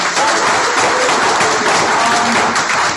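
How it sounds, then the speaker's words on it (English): Loud, dense applause from a large audience, sustained clapping throughout with no pauses. "Give yourselves another round of applause."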